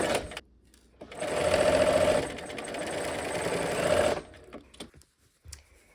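Sewing machine stitching quilt seams with the needle-down setting, a steady close motor whir running for about three seconds, then stopping, followed by a few faint handling clicks.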